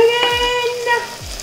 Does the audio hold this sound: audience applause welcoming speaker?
no